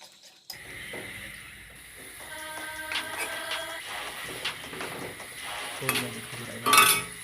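Onions sizzling in a pan with metal scraping and clinking as they are stirred, fairly quiet and continuous.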